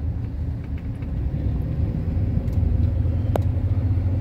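A 1963 Ford Galaxie 500 driving on a freeway near Salinas, heard as a steady, loud low rumble of engine and road noise that holds constant with no talking.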